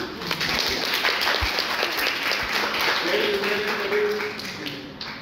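An audience applauds during a talk for engineering students, a steady wash of clapping with a few louder individual claps, while a speaker's voice carries over it.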